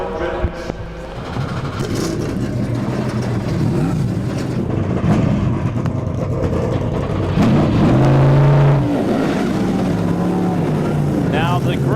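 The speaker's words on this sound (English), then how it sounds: "Gentlemen, start your engines." Race car engines fire and rev at the 2010 Rolex 24 at Daytona, a loud dense roar with rising revs, one nearby engine swelling louder midway, while a voice speaks over it.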